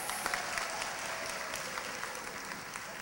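An audience applauds for a choir with a continuous, even wash of many hands clapping, fairly distant and sustained for the whole span.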